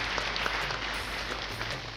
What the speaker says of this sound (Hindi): जरा जोरदार तालियां बजाइएगा।